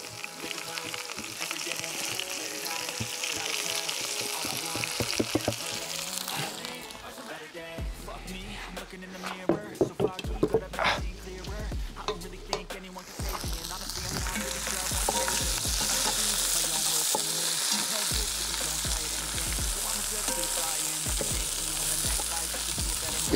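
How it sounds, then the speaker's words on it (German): Vegetables sautéing in a cast-iron Dutch oven for beer-braised meat: a steady close sizzle, broken midway by scraping, clattering stirs and knocks, then settling back into a strong, even fry. "Ich komme mal mit meinem ganzen Gemüse und schmeiß das hier jetzt mal mit hinein. Das dünsten wir jetzt auch schön an."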